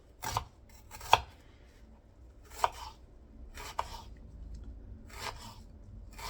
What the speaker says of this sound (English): I like to use these small knives to cut my onions